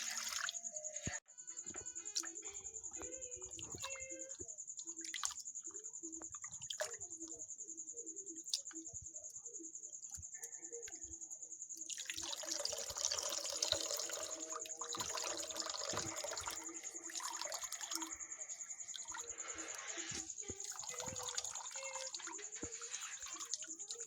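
Running tap water splashes over chhana, fresh cheese curds made from cow's milk, as they are rinsed in a kitchen, with a steady stream, intermittent drips and a louder splashing stretch in the second half.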